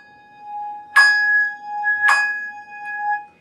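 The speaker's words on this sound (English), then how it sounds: "play two bells individually in the same hand" Two handbells held in one hand and rung together in the four-in-hand technique, sounding two clear, bright strikes about a second apart, each leaving a sustained, ringing chord that decays slowly in a quiet room.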